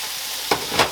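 Mushrooms and peppers dropped into a hot pan over medium heat for chicken cacciatore, an even sizzle broken by two sharp bursts of hiss as the vegetables land, close and loud, without any talking.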